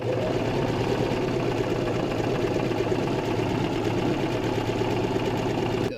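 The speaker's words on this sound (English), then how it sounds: "this stitching around the edge is just to keep all of my layers together" Steady, continuous whir of a sewing machine stitching around the edge of a pleated fabric face mask, running close and even for about six seconds before stopping abruptly.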